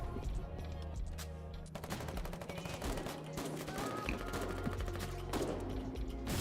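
Dense gunfire from a video game battle: rapid volleys of shots and sharp cracks crowd one another throughout, loud and continuous with little pause.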